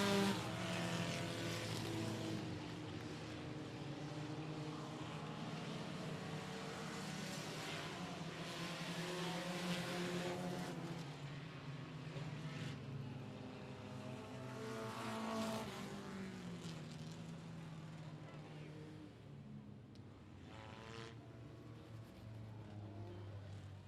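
Sprint cars roar around a speedway oval in a sustained, loud engine drone, pitch rising and falling as cars pass through the turns, with no speech.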